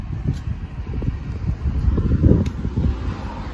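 Strong wind buffets loudly and unevenly, rumbling and gusting close to the microphone with no voices.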